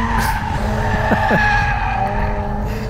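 Car tyres squeal in two sharp, rising screeches over a loud, steady engine roar, close by, during timed laps on a track with a Mazda RX-8 and a Nissan 200SX S14A.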